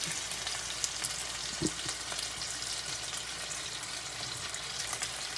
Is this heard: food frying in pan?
yes